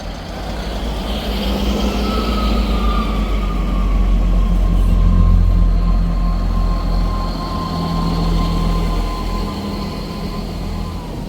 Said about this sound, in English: departing out over there was the 12:28 Scotrail service starting here at Edinburgh Waverley to Glasgow Central